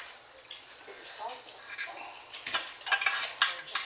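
Forks scrape and clink against a pan while shredding cooked carnitas pork, making irregular bursts of scratching and metallic taps that grow busier toward the end, fairly close and moderately loud.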